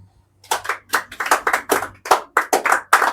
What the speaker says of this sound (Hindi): मारो ताली